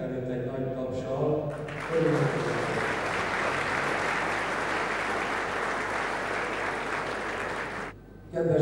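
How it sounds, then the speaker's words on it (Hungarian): A crowd applauds to welcome a visiting folk music ensemble at an indoor gathering, starting after a short stretch of speech and holding as steady dense clapping for several seconds before cutting off abruptly. "mindenek előtt egy nagy tapsal"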